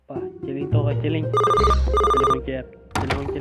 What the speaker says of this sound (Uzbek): Telefon kelyapti sizga.